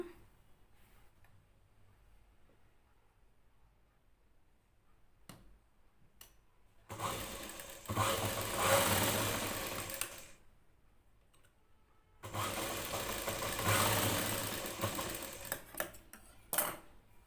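A sewing machine stitches the neck band joint of a plain blouse in two close, steady runs of about three to four seconds each, separated by a quiet pause, with faint handling clicks around them.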